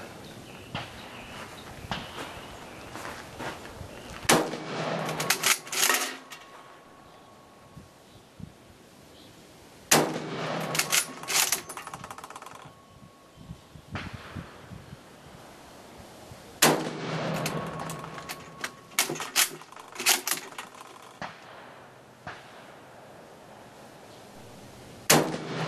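Mosin Nagant rifles from a collection are test fired outdoors: three loud, sharp shots spaced several seconds apart, each followed by echoing tail and metallic bolt clatter, with quieter handling noise between.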